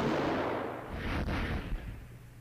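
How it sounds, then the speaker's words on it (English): Laser and grenade launcher fire in X-Men: The Ravages of Apocalypse gives a loud, booming blast that rumbles and fades over a couple of seconds, with no voices. "I'll switch to laser and grenade launchers"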